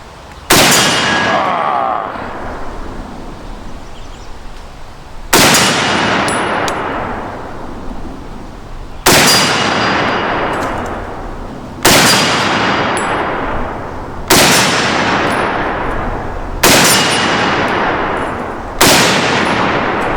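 A Century Arms M-1 Garand rifle fires at a range: seven sharp, loud gunshots spaced a few seconds apart, each trailing off in a long echo, with the metallic ping of the ejected clip near the end.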